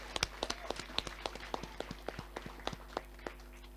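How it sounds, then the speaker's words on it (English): Scattered applause from wedding reception guests, sparse individual claps in an irregular rhythm, fairly close and moderate in volume, without speech. "I think we should all give you a big round of applause for being an amazing crowd tonight"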